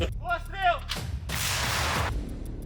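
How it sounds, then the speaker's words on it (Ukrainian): A D-30 howitzer fires with a heavy blast, then a long rushing roar that cuts off. Brief high whistling tones come just before the shot. "гармата гаубиця Д-30"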